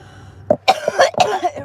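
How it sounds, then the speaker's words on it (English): Several harsh coughs and throat-clearing bursts in quick succession, close and fairly loud, from a person reacting to a small purple vape at home during a morning live stream. "It makes me cough though"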